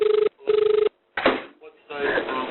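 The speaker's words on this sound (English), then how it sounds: "That new line is ringing now." Telephone line ringing during an emergency call transfer, two short double-pulsed ring tones in quick succession, followed by a brief voice and line noise.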